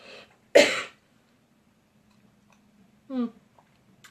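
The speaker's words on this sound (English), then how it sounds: "You have to cough and drink some water" A single abrupt explosive cough bursts out, followed a few seconds later by a short throaty vocal sound, with quiet room tone between.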